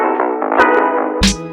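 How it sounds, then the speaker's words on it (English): Filtered drum loop processed with master-bus effects, the snare dropping back in near the end as a short loud hit with low thump and bright noise over sustained tonal layers. "I can just like isolate this tiny part and have the snare come back in when it's supposed to"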